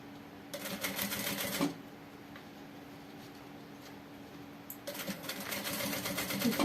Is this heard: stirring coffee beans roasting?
no